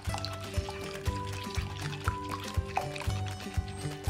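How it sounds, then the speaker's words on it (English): Milk pours into a mixing bowl of egg and sugar for Japanese-style pancake batter: a soft, steady liquid stream, close and quiet, with faint rhythmic thumps beneath it. "Pour in the milk."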